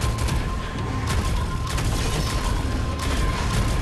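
Shotgun fire in the ShadowGun Legends shooter game, repeated sharp blasts in quick succession over dense, loud battle noise, with no voices.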